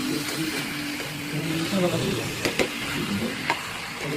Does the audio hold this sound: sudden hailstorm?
no